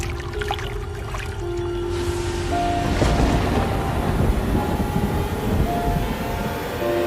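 Steady heavy rain with a deep rumbling of thunder rolling in partway through, used as a sound effect in a Hindi horror story; continuous and loud, with no talking.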